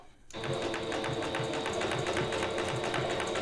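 A sewing machine starts up abruptly after a brief quiet moment and then hums steadily while sewing knit fabric for baby leggings, close and loud, with a fast even stitching pulse.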